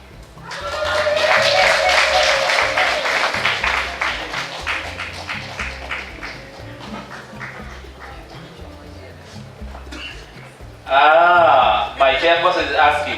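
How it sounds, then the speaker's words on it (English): Audience applause at a project closing event fills the first half as steady, rhythmic clapping that gradually thins out, followed by a voice speaking. "My chairperson is asking, why have you clapped?"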